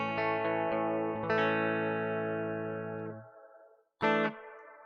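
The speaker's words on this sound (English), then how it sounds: "Right, now we sent it to that reverb, didn't we? And that's what you hear in there." Guitar signal sent through a reverb effect in the Cubasis 3 app: sustained harmonic notes ring out with a long decaying tail, then one more plucked chord starts and fades, heard alone with no talking.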